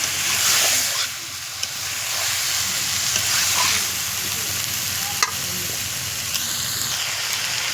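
Chicken braising and frying in a pan over a village clay stove, a loud continuous sizzle with occasional stirring scrapes and clicks, no talking.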